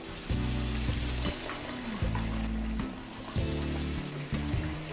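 Homemade chicken and ham croquettes, made with buttermilk, frying in hot oil, giving a steady, dense sizzle throughout with some bubbling crackle and a few low clunks of handling, no voices.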